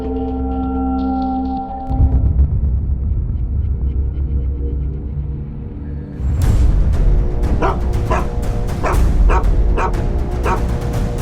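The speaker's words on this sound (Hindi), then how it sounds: "कुत्ते का इस तरह एक ही जगह में बार बार भौंकना मुझे कुछ एब्नॉर्मल लग रहा है।" Police dog barking over and over in one spot at a crime scene, sharp repeated barks and yips growing dense and loud in the second half over a steady background hum, with no talking.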